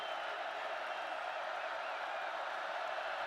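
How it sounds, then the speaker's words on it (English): Steady, dense roar of a large football stadium crowd at an Oklahoma college game, a broad continuous wash of noise holding at one level throughout, with no distinct cheers or claps standing out. "Crowd roaring."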